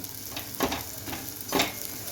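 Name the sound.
sautéing spices with chilli, coriander powder, garam masala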